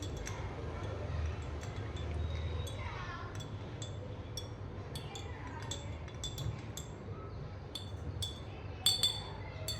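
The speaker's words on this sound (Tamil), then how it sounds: "இதை கொஞ்சம் நல்லா மிக்ஸ் பண்ணிக்கோங்க ஃப்ரெண்ட்ஸ்" A spoon stirs a chia seed drink sweetened with honey in a glass, giving a scattered series of light clinks and taps against the glass over a low background hum.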